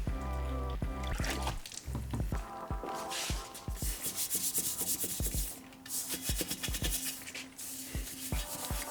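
Close, steady brushing and scrubbing of truck wheels during detailing, with rhythmic rubbing strokes and wet friction sounds repeating throughout at moderate loudness.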